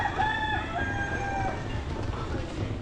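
A rooster crows in the distance, long drawn-out calls repeated a couple of times over a soft background hiss.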